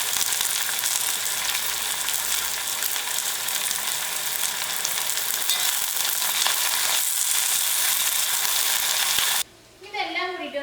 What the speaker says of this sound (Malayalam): ഇതിലേക്ക് ചതച്ച് വെച്ചേക്കുന്ന വെളുത്തുള്ളി ചേർക്കാം. ഇഞ്ചി ചേർക്കാം. കറിവേപ്പില ചേർക്കാം.